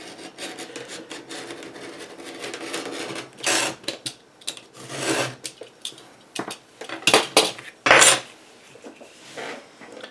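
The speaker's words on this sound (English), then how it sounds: "I'll just flip it over and cut it right over onto the other side" Knife cutting out leather for a custom axe sheath, heard as close, irregular rasping scrapes and drags in bursts of varying length, separated by quieter pauses.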